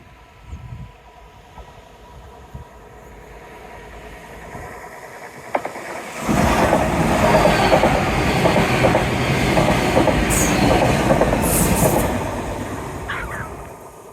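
A train passes at a park fair setup in Teignmouth, a broad rumbling roar building suddenly and holding steady for several seconds before easing away, with a faint toot earlier and no talk.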